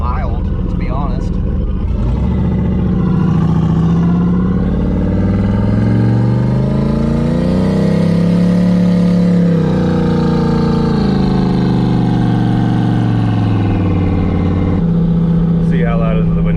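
A turbo LS engine in an old OBS Chevy 4x4 truck with fender-exit exhaust drones steadily while cruising, its pitch swelling and easing, with someone talking over the mild, continuous rumble inside the cab.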